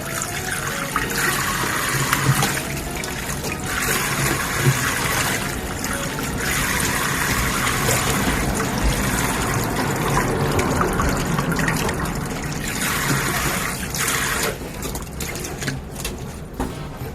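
Water runs from a tap as eggs are washed for a kindergarten cooking lesson, a steady splashing flow with brief surging bursts throughout.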